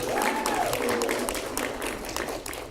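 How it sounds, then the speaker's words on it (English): Audience applause welcomes speakers onto a conference stage at a mobile growth event, a dense, steady clapping wash lasting the whole moment with a thin whistle-like tone riding above it early on. "Please give them an awesome TMGA Growth House warm applause."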